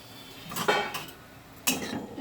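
A metal lid is set onto a cooking pot of leafy greens, two distinct clanks about a second apart, close and fairly quiet in a home kitchen.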